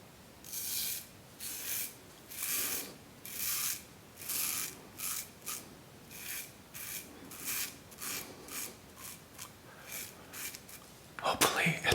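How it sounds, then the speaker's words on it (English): Safety razor dragging across thick facial stubble in a close-up ASMR shave, a series of soft rasping strokes in steady rhythm, each one a short scratchy swipe, ending in a louder rinse-like burst. "Now I'll go with the safety razor"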